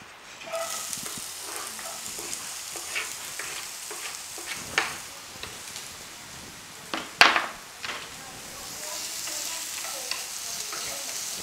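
Onions sizzling in a pan with plenty of oil: a continuous close crackling fry, broken by repeated scraping and clinking as the pieces are stirred, with a few sharper spatters.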